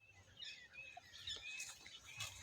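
Sparrows chirp in quick, high bursts that rise and fall over a couple of seconds, with a steady low background hum beneath them and no talking.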